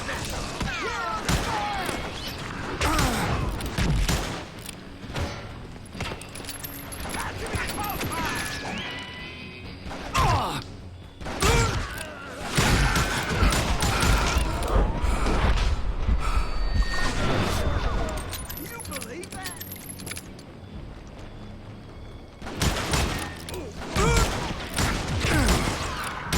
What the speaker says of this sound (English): Who's shooting at them?